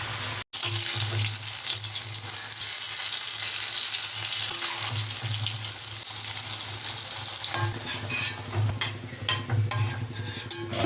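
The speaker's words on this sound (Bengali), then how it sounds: "এবারে কড়াইতে সাদা তেল গরম করে এই বরফিগুলোকে লাল লাল করে ভেজে তুলে নেব।" Diced lentil-cake pieces sizzle steadily in hot white oil in a wok, with occasional scraping and stirring clatter from a utensil growing more frequent toward the end.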